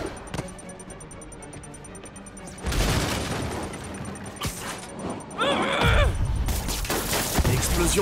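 Bomb explosions in a Spider-Man video game, with sudden loud blasts and crashing debris breaking in over a quieter stretch, a second burst arriving later and holding to the end.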